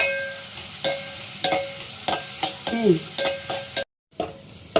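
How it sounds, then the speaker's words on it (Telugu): Food fries in a pan until browned for a brinjal and egg curry, a crackling sizzle under regular scraping stirs of a spatula, close by, with a brief dropout near the end. "ఇది బ్రౌనిష్ కలర్ వచ్చే వరకు వేయించాలి ఫ్రెండ్స్"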